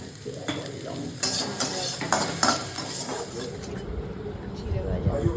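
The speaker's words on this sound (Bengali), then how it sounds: "চিড়ে ভাজা হচ্ছে, চিড়েটাকে ভেজে নেওয়া হয়েছে" Flattened rice fries in a pan with peanuts, onion and chili, giving a continuous sizzle broken by scraping stirs and light metal clinks. Faint voices sit in the background.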